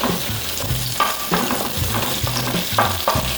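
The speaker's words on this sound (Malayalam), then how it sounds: "സെലറിയുടെ സ്റ്റെം പാർട്ട്, ഇതെല്ലാം ചേർത്ത് നന്നായിട്ടൊന്ന് വഴറ്റുക." Celery stems sauté on a high flame for egg fried rice, giving a steady loud sizzle broken by rhythmic scraping and stirring strokes of a spatula in the pan.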